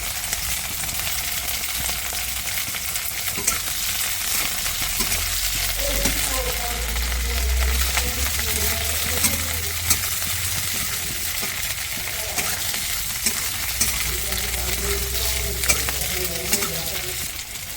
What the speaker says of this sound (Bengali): লঙ্কাটা একটু ভেজে নেব ভাজা হয়ে গেলে আমি সবজিগুলো এক এক করে দিয়ে দেবো